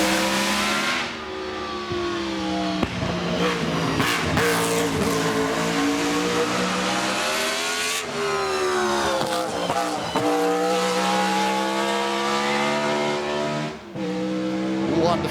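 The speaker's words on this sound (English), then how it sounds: "this is the V16 Supercharged" A supercharged BRM V16 racing car engine at the 2024 Goodwood Festival of Speed, loud and close, revving hard in a sustained, harmonic-rich howl whose pitch climbs and drops through several gear changes.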